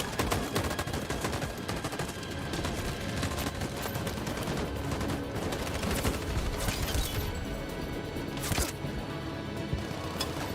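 A dense, continuous volley of gunfire rattles through a battle scene in Detroit: Become Human, with rapid machine-gun bursts and overlapping shots sustained loud and close, plus a few heavier impacts near the end.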